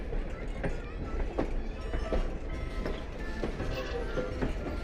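Strasburg Railroad passenger coaches roll past with rhythmic wheel clicks over rail joints and a steady rumbling undertone, heard from close by.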